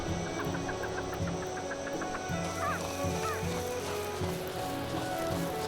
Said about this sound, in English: And another bird laughing at me.